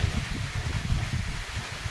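Strong typhoon wind from Typhoon Uwan buffets the microphone in an outdoor area, a continuous low rumbling roar with steady gusting and rustling, loud and close, with no voices.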